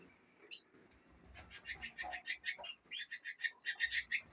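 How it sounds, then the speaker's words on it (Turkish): Canaries and budgies chirp and twitter in a home bird room, a dense run of bright, rapid trills and calls close by, with a brief coo-like note near the start and no talking. "Burada kanaryalarımız var."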